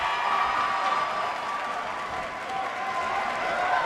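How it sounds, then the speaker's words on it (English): Continuous roaring crowd noise from an NXT TakeOver main event in the WWE 2K19 wrestling game, a steady dense wash of cheering and applause throughout, loud and unbroken. "The crowd not dying down"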